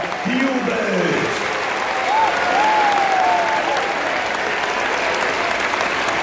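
A large crowd at the Kaltenberg knight tournament in Germany applauds and cheers steadily for several seconds, with a few rising whoops and a loud voice calling out over the din.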